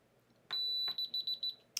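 A kitchen timer alarm sounds on a crafting bench beside a heating foil machine: one long high beep, then a quick run of six short repeated beeps, clear and alone in a quiet room.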